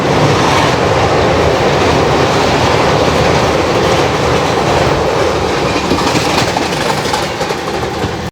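The Gondwana Express rolls loudly past a crossing, its wheels clattering in steady rhythm against a dense, continuous roar of rail noise that barely fades over several seconds.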